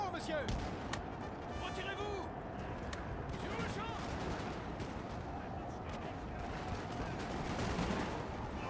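Troops firing muskets in the battle game Total War: Napoleon, with crackling gunfire popping repeatedly at middle distance over constant battlefield din, and someone talking throughout.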